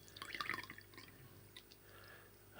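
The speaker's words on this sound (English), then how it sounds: "Next, we pour that into the third glass" Caustic soda alkaline solution trickles into a glass, a short burst of close, bright pouring and splashing that fades quickly into faint scattered drips, quiet overall.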